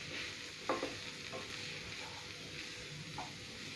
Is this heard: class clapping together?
no